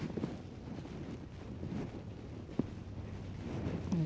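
Wind gusts along an empty city street during a wet, slippery blizzard night, a low rumbling rush buffeting the microphone, steady with a few swells and one brief knock, no voices heard.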